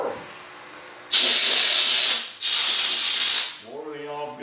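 Compressed air blowing metal chips off a boring bar and out of its guide hole: two loud, close hissing blasts, each about a second long, separated by a brief gap, followed by a faint tonal murmur.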